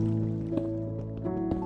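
In Minecraft, water drips inside a cave: a few soft, separate drips sound over gentle, sustained background music.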